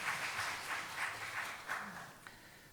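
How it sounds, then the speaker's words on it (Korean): A church congregation claps during a Sunday worship service, a faint, distant patter that pulses in a loose, even rhythm for a few seconds before thinning out. "우리 박수하겠습니다."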